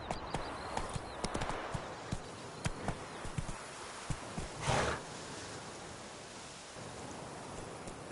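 Roach, a horse in The Witcher 3: Wild Hunt, trots with a light, fairly quick clip-clop of hooves under a soft outdoor ambience, the steps faint and irregular with a louder whoosh midway.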